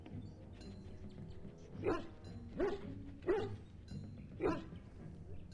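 In the game Dragon Age Origins, a dog barks four times at spaced intervals, sharp and fairly close, over a low background hum.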